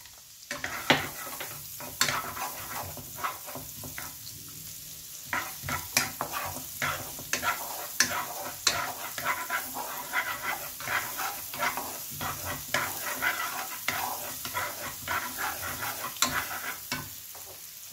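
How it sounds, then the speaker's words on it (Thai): Carrots sizzle steadily in a hot pan while a utensil scrapes and stirs in frequent irregular strokes, with no talking. "แล้วก็ลงแครอทลงไปผัดนะครับผม"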